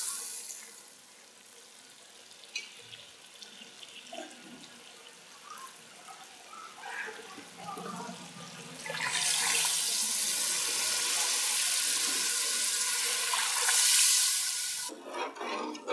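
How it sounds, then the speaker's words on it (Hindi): Water poured into a pot of beef nihari on the stove, a steady broadband rush that starts partway through and runs loud for several seconds after quieter stirring and frying sounds, then stops abruptly. "अब इसमें मैं पानी डालने वाली हूँ।"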